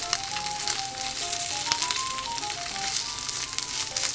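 Beef steak cubes sizzle steadily in a frying pan with a loud, dense crackle that never lets up, while a faint melodic tone runs underneath.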